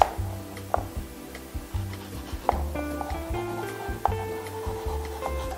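A knife cuts a peeled apple into cubes for an apple crumble, making a series of sharp, irregular taps on a cutting board, close and clear, with soft music playing in the background.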